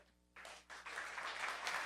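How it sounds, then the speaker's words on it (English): A small audience breaks into applause, starting abruptly and swelling into steady clapping that holds at moderate loudness for nearly two seconds. "Yeah, we can applaud for that."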